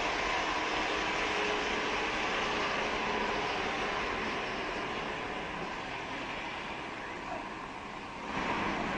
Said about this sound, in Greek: Το τρένο, την ταχεία, την οτομοτρή.